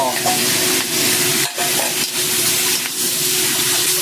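Loud, steady sizzling of squid, wood ear fungus, onion and garlic being stir-fried in a hot wok, with a continuous hiss and a few scraping tosses throughout.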